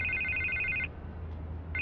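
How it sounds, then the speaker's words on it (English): A telephone rings in the Batman Telltale video game, two bursts of an electronic trilling ring separated by a short gap, clear and close with no talking. "I can't get the phone to stop ringing."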